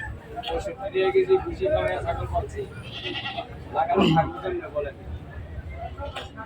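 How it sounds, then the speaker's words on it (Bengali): Goats bleat amid a crowded livestock market held before Eid, with several short calls close by while people talk steadily around them. "ছোট ছোট ছাগল আছে এগুলো"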